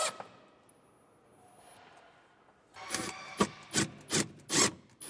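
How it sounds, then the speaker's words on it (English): Screws being driven into wood to mount a solar charge controller inside an enclosed trailer, a quiet stretch followed by several loud bursts of rough grinding and rubbing up close. "Now we're just going to mount this up with some drywall screws here."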